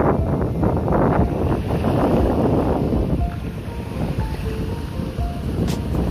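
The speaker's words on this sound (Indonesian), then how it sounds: "Air berombak." Heavy wind and sea waves at sunset on the coast at Paciran, Lamongan, a loud broadband roar of wind buffeting the microphone and rushing water that eases slightly midway, with no talking.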